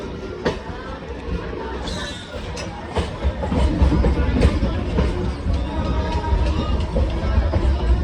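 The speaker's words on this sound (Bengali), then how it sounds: "এই যে ট্রেন যাচ্ছে" A train rumbles past at close range near Howrah, Kolkata, beneath crowd chatter and voices, its noise swelling midway and staying loud to the end.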